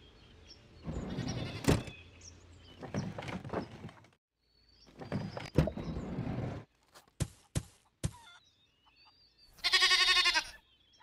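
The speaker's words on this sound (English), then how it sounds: "Goat." Goat bleating in the mobile game Dino Island, heard as a short harmonic bleat near the end after a stretch of other farmyard noises and clicks.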